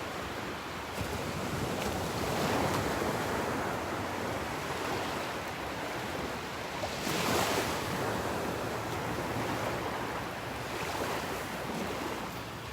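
Ocean waves wash onto the beach beside Naples Pier in Florida, a soft, continuous surf roar with a slight swell partway through and light wind noise, with no voices.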